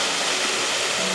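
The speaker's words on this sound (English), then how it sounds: "the waterfall feels really nice right now" A waterfall about 40 to 50 feet high in Wellington, heard as a dense, steady broadband rush of falling water, loud and close, with no voices.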